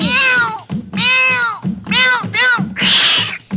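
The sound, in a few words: cat meowing in a song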